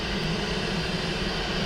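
A fixed-wing aircraft lands on runway 28 left at Dublin Airport in low visibility, its engines giving a loud, steady, broadband roar heard alone throughout the short stretch.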